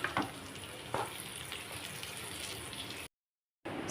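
Rice stir-fries for egg chicken fried rice, giving a soft continuous sizzle with a few scraping stirs, close but fairly quiet, then a brief drop to silence before the frying returns.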